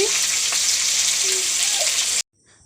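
Chopped vegetables sizzle loudly and steadily as they fry in a hot wok, a dense continuous hiss that cuts off abruptly near the end, leaving a brief quiet tail.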